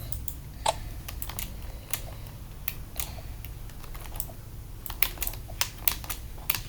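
Computer keyboard keys struck one after another in irregular bursts, crisp clicks and clacks close by over a low steady hum, with no talking.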